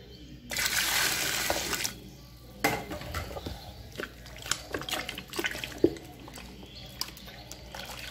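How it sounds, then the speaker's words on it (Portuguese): Boiling water poured gradually into homemade detergent: a splashing pour lasting over a second, then quieter intermittent trickles, drips and light clinks of a container, close and fairly faint. "Vamos acrescentar 3 litros de água fervente,"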